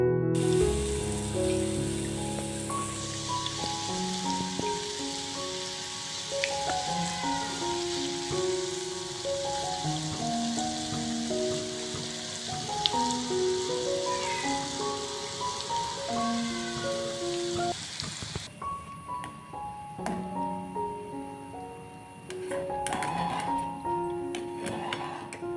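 Boondi frying in hot ghee gives off a steady, dense sizzle and crackle, like light rain, that holds on at even loudness with no voices, while tonal music plays over it throughout.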